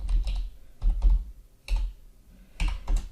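Keys clacking on a computer keyboard in short bursts of quick typing separated by pauses, close and fairly loud.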